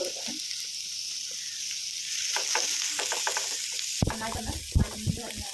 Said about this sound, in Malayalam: ഇനി സവാള ചേർത്ത് കൊടുക്കാം. ഇത് നമ്മുടെ സ്പെഷ്യൽ സാധനമായിട്ടുള്ള ചെറിയ ഉള്ളി ചേർത്ത് കൊടുക്കാം.